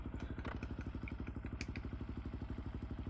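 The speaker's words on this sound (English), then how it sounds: "I'm touching a little bit on the throttle. You shift down to go into first." A dirt bike engine in the MX Bikes motocross game, ridden on a beginner setup, chugs in a steady rapid pulse at low throttle, loud and close, with light clattering ticks on top.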